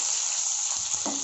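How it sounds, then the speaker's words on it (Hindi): A cup of chopped onion hits hot oil with cumin seeds, giving a loud, even, close hiss of frying that holds steady throughout the short moment, with no voices. "जीरा पक जाए अब इसमें हम 1 कप प्याज डालेंगे,"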